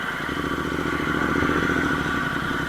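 A Royal Enfield Interceptor 650 motorcycle idling nearby, its exhaust giving a steady, loud, even thrum with a fine rapid pulse and no voices over it.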